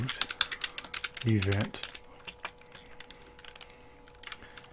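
Rapid bursts of clicky computer keyboard typing as a folder name is entered, close and crisp, with a brief spoken word and quieter pauses between the keystroke runs.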